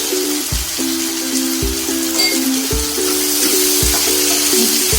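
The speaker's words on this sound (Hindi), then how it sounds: "इसे फिर से भूनेंगे थोड़ी देर के लिए ताकि मसाले पक जाएं।" Ground chilli, turmeric and black pepper sizzle in a pan while being roasted for a bottle gourd curry, a steady close hiss with a low repeating tonal pattern underneath.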